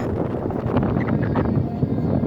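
Strong wind gusting over the microphone high on the Eiffel Tower replica in Macau, a loud continuous buffeting rush with no clear talk.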